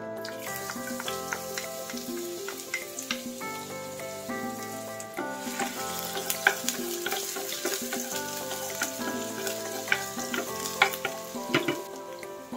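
Onion frying in olive oil in a pan for sautéed string beans, a steady sizzle with stirring scrapes running throughout, close and moderately loud with no talking.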